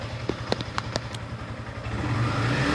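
A brand-new 2026 Yamaha MT-15 motorcycle engine idles close by with a few sharp mechanical clicks, then its revs rise toward the end.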